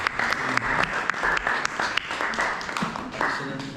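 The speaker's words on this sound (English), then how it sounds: "I think we should give a round of applause to them." Temple congregation at a Halloween Kartik gathering applauds the deity forms of Jagannath, Baladev and Subhadra, a lively crowd of clapping with distinct sharp claps standing out over a steady roar.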